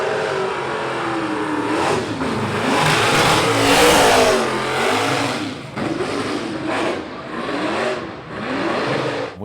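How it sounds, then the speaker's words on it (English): Damaged car engine running on seven of its cylinders after a crash, revving hard and rising and falling through gear changes during a racing lap, loud and rough throughout with a wavering, harmonic-rich drone. "you'll hear how awful the car sounds"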